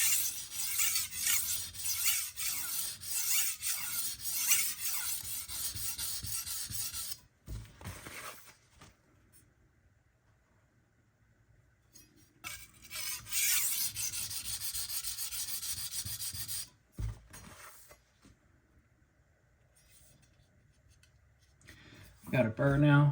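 A Ytuomzi chef knife is drawn across Naniwa Hayabusa and Fuji whetstones in long runs of rapid, gritty scraping strokes, broken by quiet pauses, then a final short burst.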